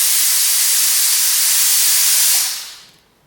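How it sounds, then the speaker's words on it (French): A Euroflex Euroinox 559 steam ironing station releases a strong, loud hiss of steam for about two seconds before it quickly fades away, alone with no talking. "La gâchette, on appuie, on envoie la vapeur"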